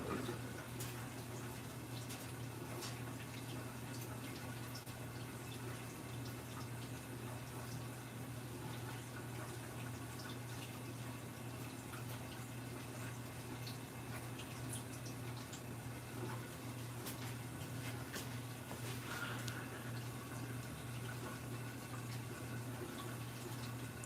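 A residential front-loading washing machine fills with water for its rinse cycle, giving a faint, steady rushing flow over a low constant hum, unbroken for the whole stretch.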